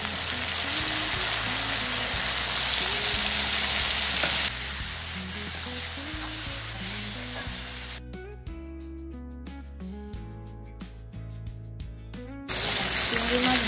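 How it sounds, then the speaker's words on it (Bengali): Prawns seasoned with salt and turmeric fry in oil, giving a bright hissing sizzle. Background music plays over the sizzle, and the sizzle drops away briefly midway before returning. "চিংড়ি মাছ ভাজা হয়ে গেছে"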